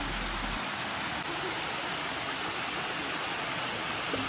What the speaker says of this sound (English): We made it to our first waterfall on the hike.